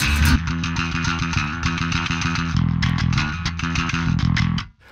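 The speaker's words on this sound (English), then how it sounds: "that gritty, heavily fuzzed, but not like a fuzz pedal distortion" Bass guitar run through the Aurora DSP Mammoth plugin's aggressive fuzz distortion: a loud, sustained, gritty, harmonically dense tone with riffing note changes, played alone and cutting off sharply at the end.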